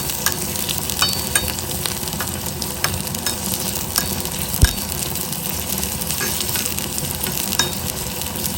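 About six cloves of crushed garlic fry in a pan over a medium gas flame, a loud, continuous crackling sizzle with scattered pops and stirring clicks throughout, with no one talking.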